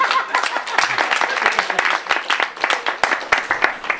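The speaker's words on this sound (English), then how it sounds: "Give her another big round of applause" A crowd gives an audience member named Judy a big round of applause at a public event, dense close clapping that keeps going strongly for the whole stretch.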